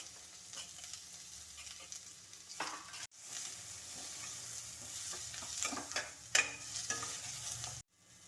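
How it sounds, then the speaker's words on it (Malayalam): Sliced onions sizzle gently in a pan for a capsicum masala curry while a spoon stirs and scrapes at intervals, a soft steady fry with occasional louder knocks. "അപ്പോൾ അത് ഇനി നമുക്ക് സവാള വഴറ്റാം"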